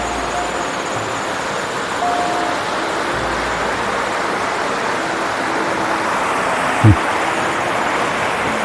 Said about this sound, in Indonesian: Sungai Bogowonto.